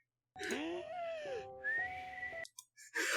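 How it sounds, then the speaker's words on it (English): A cartoon character's regular breathing whistles through a gap in his teeth, producing clear, close, wavering whistle tones that rise and fall in two breaths with short pauses between them. "I'm pretty sure he is just regularly breathing, but because of the gap in his teeth, it's a whistle"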